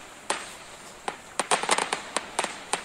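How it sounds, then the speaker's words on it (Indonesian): Fireworks pop and crackle in scattered sharp bursts, some quick clusters, over quiet background hiss. "Kembang api ada juga."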